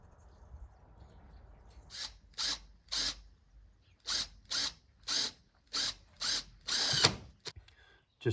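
A hand ratchet driving bolts while mounting trim work in a garage workshop, giving about ten short, sharp bursts of rapid clicking in an uneven rhythm, close and fairly loud after a quiet start, with no talking.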